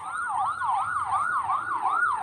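An ambulance siren wails in a steady, rapidly repeating up-and-down pattern as the emergency vehicle passes close by, loud and continuous with no talking over it.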